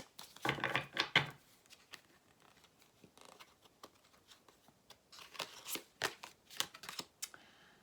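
Tarot cards are shuffled, drawn and handled in soft, quick riffles and papery flicks, close and quiet, coming in irregular bursts with pauses between them; no one talks.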